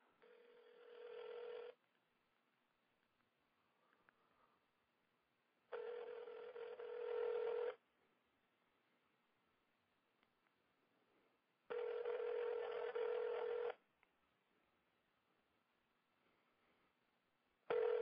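A telephone call rings out in three long electronic tones, each lasting a couple of seconds and separated by several seconds of near-silence, heard faintly down the line with no one talking.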